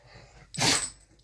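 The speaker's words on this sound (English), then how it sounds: "Bless you, Cash" A dog lets out a single sharp, close sneeze, a brief bright burst of breath standing out over a quiet room.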